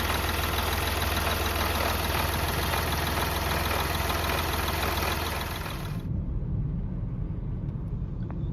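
A car engine idles steadily and loudly at close range, a constant low rumble that drops away sharply near the end, leaving a quieter hum.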